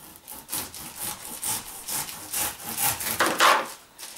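A serrated knife saws through a pineapple in about eight quick, rhythmic back-and-forth strokes, each a loud, close, rasping scrape, with no voices.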